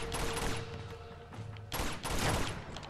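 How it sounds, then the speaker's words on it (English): Enemy gunfire in Uncharted 2: Among Thieves Remastered, rapid bursts of shots crackling close, a dense volley at the start and a second loud burst near the end. "Where am I getting shot from?"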